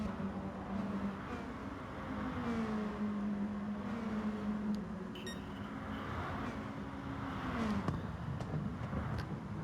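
A race car engine at full throttle in Gran Turismo Sport, a sustained droning whine that rises and dips in pitch through a long corner, moderately loud with no talk.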